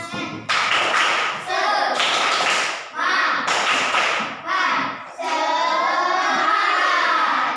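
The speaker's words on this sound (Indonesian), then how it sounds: "Kita semua tepuk semangat." A class of third-grade schoolchildren claps a rhythmic spirit cheer in short bursts of group clapping, with young voices chanting along between the claps.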